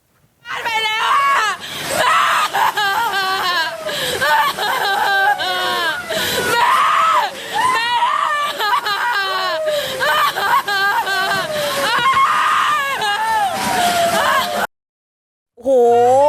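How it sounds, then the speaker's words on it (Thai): Many people scream and shriek loudly and continuously, close by, as storm wind blows a house roof away in Uthai Thani, Thailand. The cries stop abruptly near the end, leaving a short silence before a brief final burst. "ดูดิเสียงร้องแบบนี้เพราะว่าเงยขึ้นไปเนี่ยหลังคามันพัดมันปลิวไปแล้วค่ะ"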